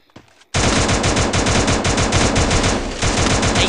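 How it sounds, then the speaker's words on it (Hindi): Rapid automatic gunfire in the Garena Free Fire mobile battle game, a loud, dense, continuous burst of shots close up, broken by a brief pause before resuming, with no talk over it. "भाई, किधर फायर कर रहा है"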